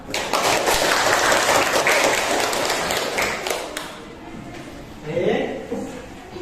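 A classroom of students claps for a classmate, a dense burst of applause lasting about four seconds before fading, followed by a few scattered claps and quieter voices.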